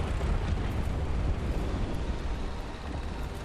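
A German 88 gun fires with a heavy explosion in the war game Men of War 2, a dense, sustained rumbling roar that stays loud and close throughout.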